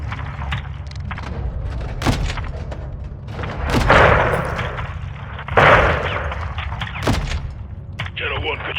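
Heavy cannon fire from a gunship pounding a building in the Modern Warfare II campaign: repeated deep booms and thuds over a constant low rumble, with two louder blasts landing close together.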